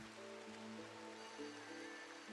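Steady, soft rain in the video game Rimworld, a faint continuous patter on surfaces during a rainy season, with low tonal game music humming underneath and no voices.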